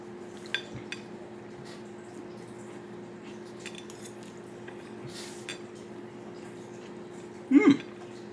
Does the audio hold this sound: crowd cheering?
no